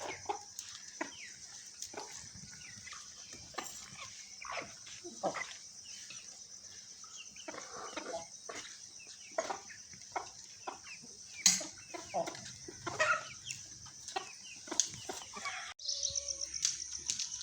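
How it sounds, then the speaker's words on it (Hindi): Chicks and roosters peck at pieces of roti, clucking in quiet, scattered bursts at close range over a soft background of insects, with one louder squawk partway through. "चूज़े भी खा रही है रोटी और मुर्गे भी खा रही हैं।"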